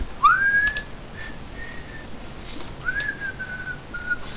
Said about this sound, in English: I'll stop whistling now